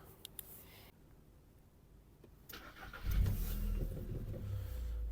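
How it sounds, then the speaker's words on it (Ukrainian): A 2006 Volkswagen Touran 1.6 MPI engine starts and settles into a steady, low running rumble, following a quieter stretch of background noise. "розглянемо роботу двигуна"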